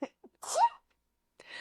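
A single sharp sneeze, close and fairly loud, with a brief breathy intake before it and a little faint noise after.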